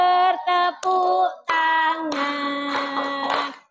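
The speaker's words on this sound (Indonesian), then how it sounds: "Tepuk tangan lagi." Children in a classroom give a few sharp hand claps, mostly masked under a loud sung children's chant.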